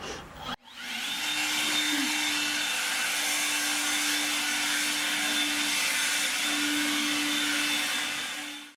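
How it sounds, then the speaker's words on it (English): A leaf blower runs continuously on a farmhouse front porch under construction, a steady loud whooshing drone with a sustained motor whine after a brief start-up. "Corey is using the leaf blower on the front porch and in the house"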